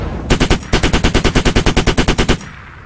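Automatic weapon fire in the military shooter game Squad: a single sustained burst of about twenty rapid, evenly spaced shots, loud and close, with no talk over it.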